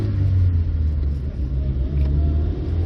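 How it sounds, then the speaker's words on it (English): A 1993 Mazda 121 1.3 GLX idles and runs with a steady low engine rumble and hum, close and continuous, with no talking. "Engine makes a good noise."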